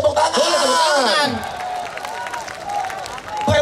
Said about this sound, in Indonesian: Yang bagus-bagus boleh tepuk tangan.